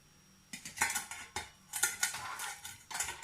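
Stainless steel dishes and a small stainless steel frying pan clink and clatter as they are handled, a series of close, bright metallic knocks and rattles in uneven bursts over a quiet background.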